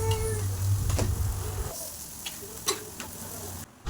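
Parotta cooking on an oiled griddle stone and being flipped over, a steady sizzle with soft scraping and a few sharp taps near the end before the sound cuts off.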